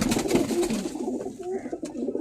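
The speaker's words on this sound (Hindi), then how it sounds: "ये बॉर्डर वाला कबूतर है" A border pigeon coos in short repeated low phrases, close and fairly loud, with a little background noise.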